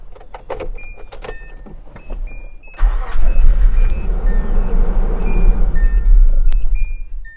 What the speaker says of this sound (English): we are going to start the engine and let it run until the engine kind of dies from lack of fuel